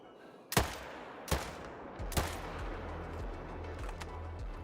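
A .308 AK rifle fires in a hunting video game, with three sharp shots about a second apart over steady background noise.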